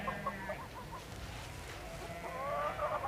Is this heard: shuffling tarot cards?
no